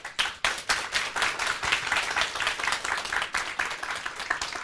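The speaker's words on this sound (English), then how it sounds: "Let's give a round of applause to his very nice speech." An audience claps after a university lecture by Professor Ion Stoica, dense individual handclaps forming brisk, steady applause, close and lively, continuing for several seconds without talk.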